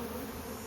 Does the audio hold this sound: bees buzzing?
yes